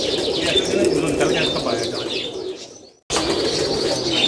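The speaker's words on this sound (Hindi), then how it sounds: "ये 88 कबूतर है हमारे," Teddy pigeons in a loft cooing and chirping steadily at close range, with a brief cut to near silence before the cooing resumes.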